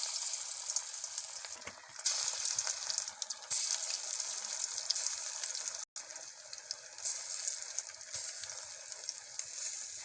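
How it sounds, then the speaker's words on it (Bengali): Masoor dal fritters frying in hot oil in a pan, giving a continuous crackling sizzle with bursts of spattering. There are brief dips, including one sharp gap partway through, and no talk over it. "দিয়েছি ডাল বড়াগুলা লাল মুচমুচে করে ভেজে নেব"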